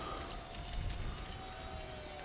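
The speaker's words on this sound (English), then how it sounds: "this wind is sort of gusting around at a fair old lick" Gusting wind outdoors, a broad steady hiss with low rumbling buffets against the microphone, fairly faint and continuous, with a thin tonal whine running underneath.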